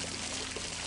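In the video game Polda 2, water sprays in a dense, steady hissing rush, loud and unbroken with a low hum beneath.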